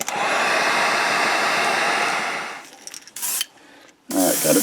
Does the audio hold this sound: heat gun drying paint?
yes